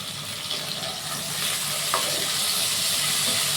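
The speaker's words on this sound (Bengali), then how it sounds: "আলুটা একটু ভাজা ভাজা হোক" Potato pieces fry in a pan of hot oil tempered with nigella seeds, giving a steady, dense sizzle close by that grows slightly louder midway, with no voices over it.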